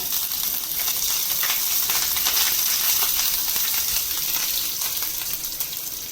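Curry leaves added to hot oil with urad dal, crackling and hissing in an unbroken sizzle close by, with no voices.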